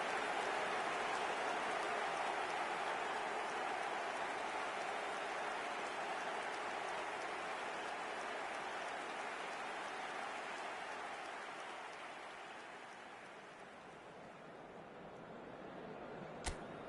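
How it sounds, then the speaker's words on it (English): Rain falls in eFootball on PS5 as a dense, steady hiss, fairly faint and easing slightly toward the end, with no voices. "The rain is tumbling down here by the bucketful"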